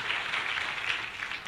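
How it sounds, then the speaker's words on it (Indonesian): A church congregation applauds for God during a testimony service, a steady, fairly faint wash of clapping throughout with no talking over it. "Berikan tepuk tangan yang paling luar biasa buat Tuhan kita."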